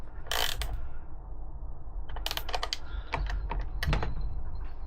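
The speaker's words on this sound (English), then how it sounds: "we're just going to bolt the indicators on to the fairings" Ratchet work while bolting indicators onto the fairings of a Triumph Daytona 675 during a crash rebuild, with bursts of quick metallic clicking and rattling at close range separated by short pauses and no talk.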